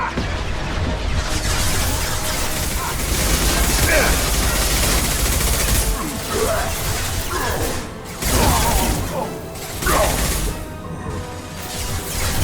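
Gunfire and impact shots in Mass Effect 2, with loud bursts, crashes and thwacking hits coming in irregular waves over continuous battle noise.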